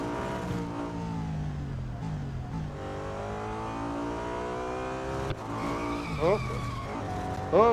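A BMW M3 GTR race car in Real Racing 3 with a revving engine and tire squeal as the car skids, ending in rising, wavering squeals over steady engine drone.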